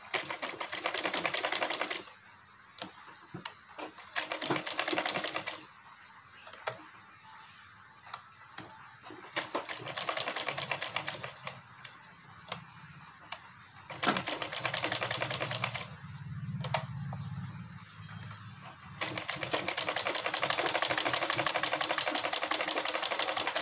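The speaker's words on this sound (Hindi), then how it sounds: "तो कुछ इस टाइप से हमने एक साइड की सिलाई लगा ली है।" A sewing machine stitches the hem of a semi-patiala salwar, running in a steady rapid mechanical chatter in several long bursts with brief pauses between, close and alone.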